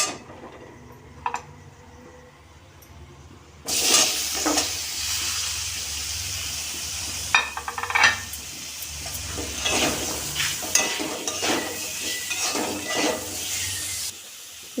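Chopped bottle gourd (lau) tipped into a hot pan with oil and turmeric for lau dal, a quiet start giving way to a loud, bright, sustained sizzle with stirring scrapes and clatters throughout.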